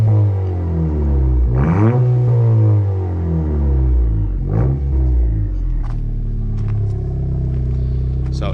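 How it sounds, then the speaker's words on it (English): An 11th-gen Honda Civic with a Remark exhaust and PRL intake revs hard several times, its engine note swooping up and down over a deep, loud, close idle rumble. "Go ahead and rev it up. Remark exhaust and PRL intake system."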